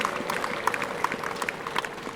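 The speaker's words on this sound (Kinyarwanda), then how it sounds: "Mu bampera amashyi n'impundu." A church congregation in a Rwandan parish setting applauds with ululation, a dense, steady wash of clapping with high trilling cries rising through it for the whole stretch.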